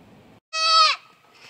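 A single goat lets out a loud, close bleat lasting about half a second, with faint background murmur before and after.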